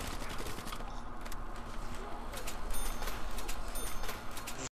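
Call of Duty Zombies points sound effects on Verrückt, a string of bright, quick ticking chimes stacking over steady gunfire and background game clamor.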